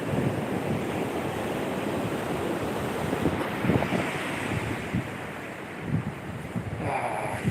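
Steady rush of surf breaking on Batu Mikhau beach near Krui, waves rolling in continuously with wind buffeting the microphone, no voices.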